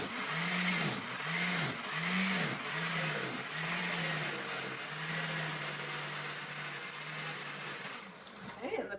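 Blender whirring through a thick cilantro pesto made with coconut milk, its motor pitch rising and falling in repeated labored surges, then settling into a steadier strained drone near the end.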